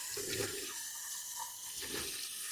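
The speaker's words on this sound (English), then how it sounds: "I'm going to rinse out this" A one-gallon container is rinsed under running water, a steady close splash and gurgle with a couple of swells as the water sloshes inside.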